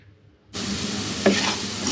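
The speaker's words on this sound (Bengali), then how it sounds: "এগুলো একটু হালকা ভেজে নিব।" Cubed onions and goat tripe hit hot oil in a pan, breaking into a loud, steady sizzle after a quiet start, with a brief stirring clatter midway.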